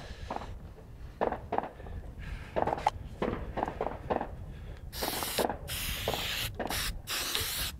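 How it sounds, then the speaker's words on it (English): Short hissing bursts of aerosol oil spray onto an M2 .50 caliber machine gun, several in quick succession, followed by longer sustained sprays, with clicks and handling noises between them, close up. "How about some of that oil? I'll spray it."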